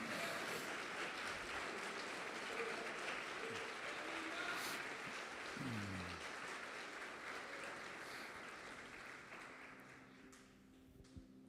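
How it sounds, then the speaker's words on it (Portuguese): Church congregation applauding steadily through the whole stretch, a dense, even wash of clapping that fades slightly toward the end. "Você pode aplaudi-lo e glorificá-lo?"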